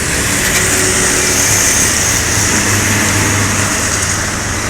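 A steady, loud engine rumble and road noise as a large Epastar bus drives past on a highway, with no talking.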